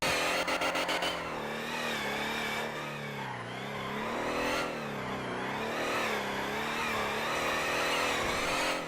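A loud drift car engine in GTA Redline RP revs steadily and close, its harmonic whine rising and dipping through gear changes with a brief stuttering rev at the start, no voices over it.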